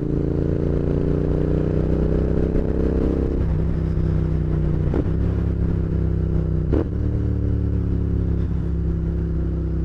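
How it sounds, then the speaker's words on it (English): A Royal Enfield Interceptor 650 motorcycle is ridden at a steady pace, its engine droning loud and close throughout, with several quick throttle blips lifting and dropping the pitch. "Fast action throttle there, making that blipping so much easier."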